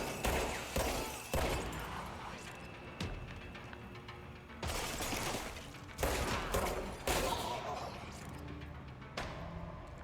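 Gunfire in the Control action game comes as repeated sharp bursts and crashing volleys, close and loud, spaced through the stretch with an echoing, reverberant tail and no spoken voice.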